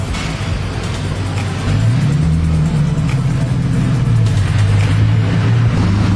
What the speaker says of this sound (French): On va voir si le V8 américain résonne un petit peu.